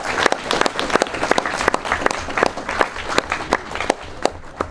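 Sustained applause from an audience at a track and field banquet, dense steady clapping filling the room with a few sharper individual claps standing out, no talk over it.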